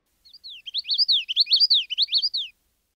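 Common yellowthroat singing a clear, quick series of repeated bright warbling phrases, close and alone against total quiet.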